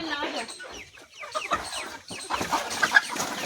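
Hens clucking in short, irregular bursts close by on a poultry farm, with scattered chatter from other fowl in the background.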